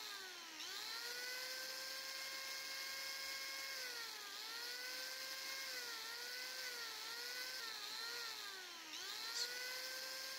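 A chainsaw trims the beak of an eagle carving. Its engine holds a continuous, close, buzzing whine that dips in pitch several times as the blade bites under load, then recovers, with no talking.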